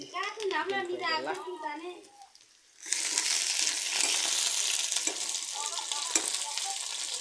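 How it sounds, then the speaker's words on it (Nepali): Someone talks briefly; then, after a short lull, sliced onions drop into hot oil and burst into a loud, dense sizzle. The sizzle continues steadily, with a few faint clinks of stirring. "अब प्याज चाहिँ फ्राई गरौँ अलिकति"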